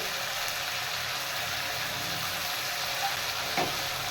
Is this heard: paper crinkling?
no